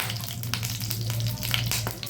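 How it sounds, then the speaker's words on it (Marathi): Mustard seeds sizzle and crackle in hot oil in a kadhai, a steady dense frying hiss with scattered sharp pops, close and continuous with no talk. "त्यात मोहरी टाकली आहे"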